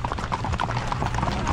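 A Standardbred horse paces along with a steady, rapid clip-clop of hooves, close and continuous throughout.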